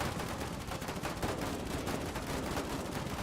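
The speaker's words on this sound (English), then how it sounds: "They're shooting in the darkness." Sustained gunfire in the war game Foxhole, a thick crackling wall of rifle and machine-gun shots that keeps up steadily at moderate loudness throughout.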